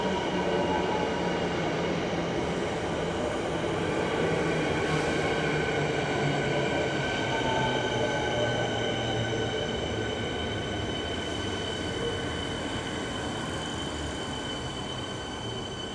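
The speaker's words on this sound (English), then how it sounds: "there's a train coming in from Sandringham there" A suburban train from Sandringham pulling into South Yarra station in Melbourne, a continuous rumble of wheels on rails with high squealing brakes, loud and close, steady throughout with no speech.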